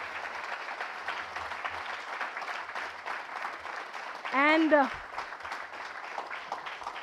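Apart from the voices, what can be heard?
applause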